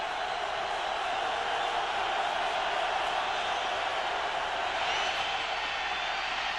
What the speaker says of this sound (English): The crowd yelling defense on its feet